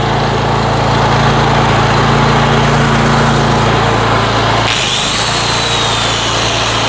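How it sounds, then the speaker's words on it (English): An old corded angle grinder whines loudly and steadily up close, its motor hum dropping off abruptly near the end as it cuts out. "so I have an old grinder."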